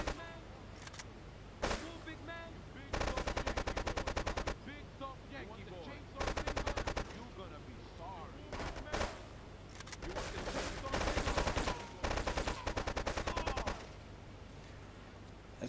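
Rapid automatic gunfire from shooting enemies in Grand Theft Auto III comes in loud, repeated bursts separated by short gaps, with quieter single shots and game effects in between.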